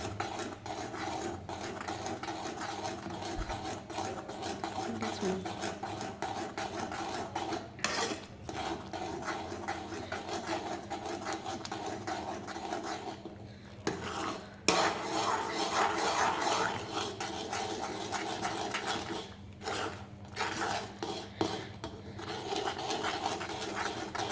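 A spoon stirs and scrapes wheat-flour sheera in a pan over low gas, with continuous scraping and rubbing strokes and occasional sharper metallic clinks against the pan, steady and close, with no talking.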